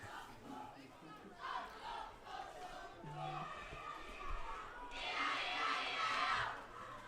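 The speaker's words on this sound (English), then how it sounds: "First cheer I feel like I've heard from the Yep. fan section this evening." A dwindling fan section cheers at a rain-delayed varsity high school football game, a distant crowd roar that swells loudly near the end over background chatter.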